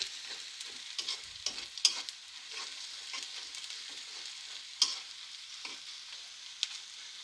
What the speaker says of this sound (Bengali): পেঁয়াজ মরিচ এবং গোটা জিরে হালকা ব্রাউন কালার করে ভেজে নেব।